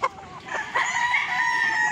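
A Kelso gamefowl rooster, a young broodstag on a game farm, crows loudly and close, one drawn-out call that starts after a short cluck and holds steady to the end.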